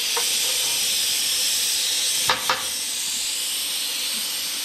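Steady hiss of steam rising off a freshly cut part on a water-cooled plasma table, continuous and broadband throughout, with a couple of brief sharper pops near the middle.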